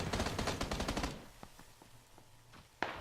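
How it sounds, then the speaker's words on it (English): Rapid automatic gunfire from PUBG in Metal Rain mode bursts loudly for about a second, then scattered single shots crack at a distance, ending with one sharp close report. "Getting shot at."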